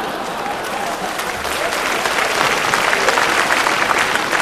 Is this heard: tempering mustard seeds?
no